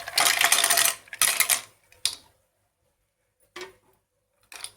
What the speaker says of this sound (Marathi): आता आपण त्याच्यामध्ये शिंपल्या घालूया